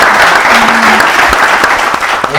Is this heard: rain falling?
no